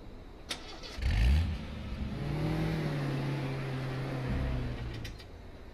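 A car engine in the H1Z1 battle royale game starts with a sharp rev, then holds a steady mid-pitched drone before settling, heard close and alone.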